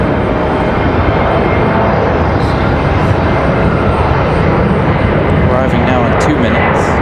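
A departing airliner at Raleigh Durham airport makes a loud, steady engine roar filling the whole span, with a voice talking over it.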